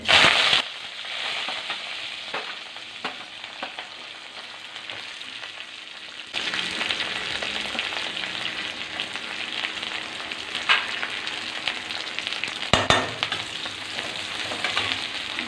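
Sliced onion and curry leaves frying in hot oil in a pan, a continuous crackling sizzle that swells louder partway through as more goes in, with stirring scrapes and sharp pops.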